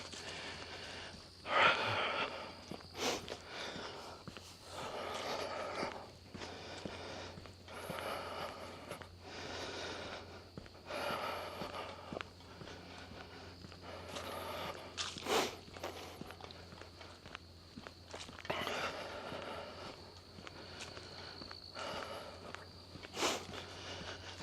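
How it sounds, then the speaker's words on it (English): Footsteps on a forest trail heading uphill, with audible breathing and huffing throughout; close, rhythmic steps with louder exhalation bursts spread across the walk, no talking. "And you can hear me breathing, huffing and puffing."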